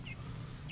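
Chickens on a chicken farm cluck faintly over a steady, dense ambient hum, with two brief higher calls at the start and the end of a very short moment.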